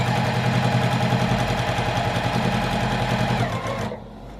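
A sewing machine stitches a quilted patchwork tote bag, a fast steady mechanical whir with rapid rhythmic needle clatter, close and loud, then stopping abruptly near the end.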